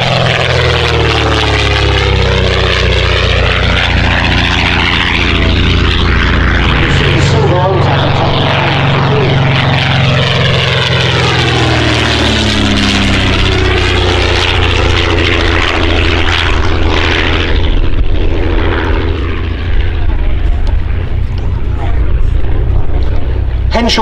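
A propeller aircraft flies at the Shuttleworth Season Premiere Air Show, its engine roaring loud and continuous as it passes overhead, the pitch sweeping up and down.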